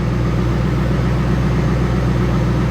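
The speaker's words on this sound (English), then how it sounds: "I believe it's just an exhaust leak, but it's good sitting here just listening to this thing run." A truck engine with an exhaust leak idles steadily and loudly with a low, even rumble and a faint ticking, puffing edge, unchanging throughout.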